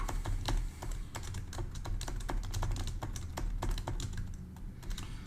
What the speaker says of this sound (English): Guess the keyboard is a bit loud.